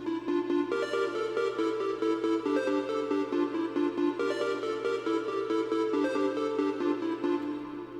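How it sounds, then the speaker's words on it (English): Organ tones carry a bass melody under a layered synth beat in FL Studio for a futuristic rap track, with steady sustained chords and a low droning note running throughout, loud and continuous with no talking. "this time I tried to use an organ as a bass for the melody"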